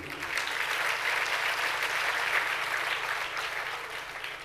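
Audience at a Jain religious discourse clapping steadily, a fairly distant, even wash of many hands applauding without pause, moderately quiet and continuous throughout.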